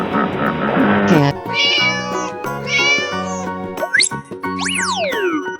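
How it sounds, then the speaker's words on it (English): In a 3D animal slide video game, a cat meows clearly twice amid upbeat game music, with springy boing effects sweeping up and down toward the end. "Cat."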